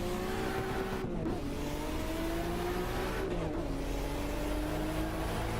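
Continuous engine drone of a Volvo driven fast through traffic in the Assetto Corsa racing game on Japanese roads, with steady revving tones that dip twice as the car shifts gears, loud and close with no talking.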